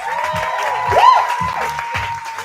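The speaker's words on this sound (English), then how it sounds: "Can we get a round of applause for that, please?" Audience applause at the Bow Fashion Show 2022, a steady wash of clapping that swells slightly in the middle, with a faint voice and tonal sounds running underneath.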